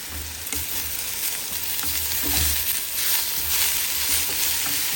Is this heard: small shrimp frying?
yes